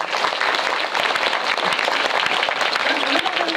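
Audience at a film talk event for the movie Parasite gives loud, continuous applause, a thick, even roar of many clapping hands filling the room throughout.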